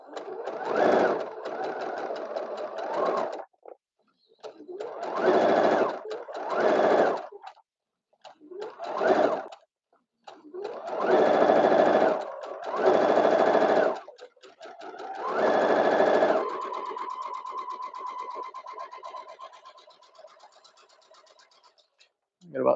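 A sewing machine stitches fabric pieces for horror puppet forms, running in several loud bursts of a few seconds each with short pauses between them, then a softer, steadier whir that fades out.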